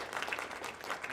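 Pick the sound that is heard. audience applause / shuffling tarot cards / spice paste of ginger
audience applause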